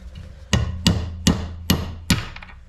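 A hammer drives a seal out of a leaking well pump: five loud, sharp metallic strikes, spaced roughly evenly about half a second apart, close up with no talking.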